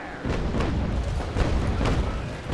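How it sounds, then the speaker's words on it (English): Sailing-ship cannons firing in the naval battle game Naval Action, a rolling, sustained low rumble of broadside booms with a few stronger thumps standing out. "This time I'm actually gonna fire my cannons at him."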